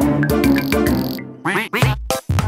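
A cartoon duck from the Pocoyo children's animation quacks loudly and repeatedly, a run of nasal, honking calls up close followed by a few shorter, choppier quacks with brief gaps between them.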